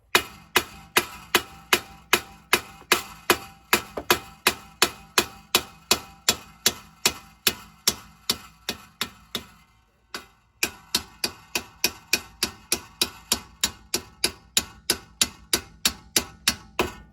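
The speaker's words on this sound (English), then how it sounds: "Once you're just giving it light taps, you can have the bolt off." A hammer taps a front strut bolt on a Chevy Malibu, sharp metallic strikes in a steady, even rhythm, close and clear, with one short pause before the tapping resumes.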